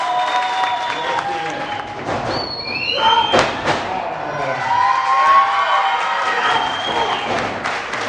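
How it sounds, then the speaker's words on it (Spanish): Crowd at a lucha libre wrestling event applauding and cheering for the winners, a dense wash of clapping with shouts and whistles rising over it, plus a few loud thuds partway through, heard close and steady throughout. "¡Aplausos por todos los ganadores!"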